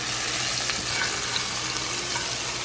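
Garlic sizzles and crackles steadily in a hot pot, a continuous bright frying hiss at moderate level with no talking over it.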